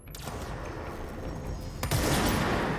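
Gunfire bursts in the video game Control, a dense rattling crackle that sits loud and constant before a sharper blast near the end.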